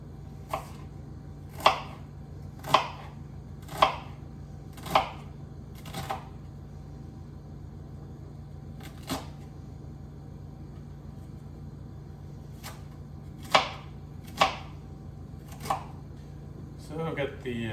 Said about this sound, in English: So I've got the onion chopped up.